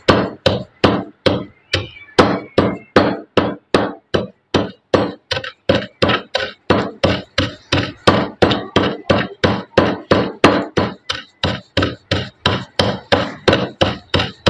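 Ingredients for homemade mango pickle are coarsely pounded by hand in a steady, regular rhythm of dozens of sharp, close thuds repeated throughout, with no talking.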